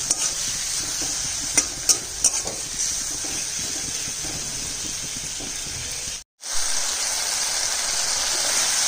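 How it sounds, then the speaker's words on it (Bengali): Spices frying with softened onion and tomato in a pan for a potato and bitter gourd dish, a steady close sizzle broken by a few stirring knocks, with a brief cut to silence near the end. "মশলা ভাজা হয়ে গেছে, পেঁয়াজ টমেটো নরম হয়ে গেছে"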